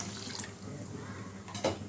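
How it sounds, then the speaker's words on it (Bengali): Water is poured into a hot pan of fried carp roe being cooked for a Bengali home meal, a brief splashing gush over a soft hissing background with a louder splash near the end. "এখন জলটা দিয়ে দিব।"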